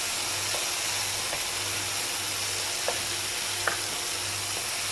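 Masala for samosa chaat fries in a pan over a medium-low flame, a steady soft sizzle and hiss with a low hum underneath and a few faint clinks from stirring.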